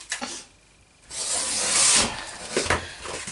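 A food mixer whirs loudly while blending citric acid for bath bombs, starting after a brief quiet pause and running with a rough, grinding hiss.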